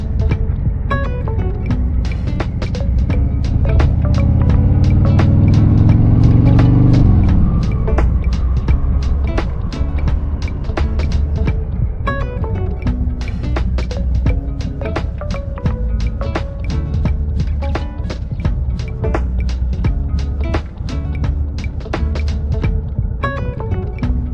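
A Harley-Davidson Heritage Softail Classic motorcycle rides through Orlando streets, its V-twin engine rumbling steadily and loudly with a rising rev and gear change early on, then settling into a continuous throaty drone with wind noise.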